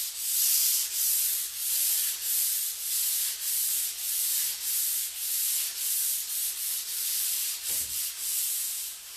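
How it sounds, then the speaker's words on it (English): A Dixie Belle sanding sponge lightly sands a furniture surface in steady back-and-forth strokes, giving a soft rhythmic rasping that repeats about a dozen times, close and alone. "And I'm just going to sand this lightly."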